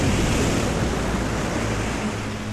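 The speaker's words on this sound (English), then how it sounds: "an unseen wall of water rises up" Heavy ocean surf crashes and churns in a continuous roaring wash, loud and close, with wind noise blowing across it and no voices.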